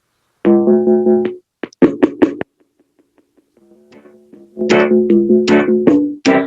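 A keyboard plays a short melody of sustained, organ-like chords, pausing briefly before resuming with a louder phrase.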